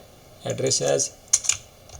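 Keystrokes on a computer keyboard while entering an address into a Python program, a short burst of several close clicks with a couple of sharper taps afterward, partly under a man's speech.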